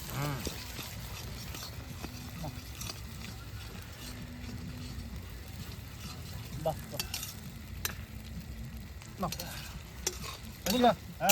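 Chicken cooks in a pan at an outdoor winter-night picnic as ginger garlic paste is added, sizzling and frying under repeated stirring and scraping, with soft clatter and people talking in the background.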